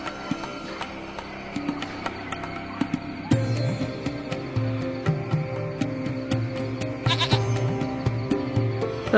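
A goat in the video game Lost Horizon bleats repeatedly in short, wavering cries over a busy game soundscape with soft clip-clop and ambient noise, fairly faint overall.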